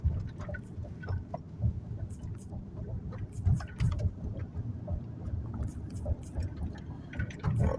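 Inside a moving car, a steady low road rumble and engine drone carry on throughout, with scattered small clicks and rattles.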